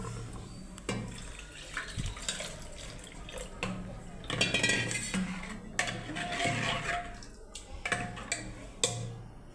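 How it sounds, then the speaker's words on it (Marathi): A cooking pot set down on a home kitchen stove and water poured in while making urad dal amti, with knocks and clinks of metal followed by a running, splashing pour at low to moderate level. "पातेलं ठेवूया, ह्याच्यात पाणी टाकू."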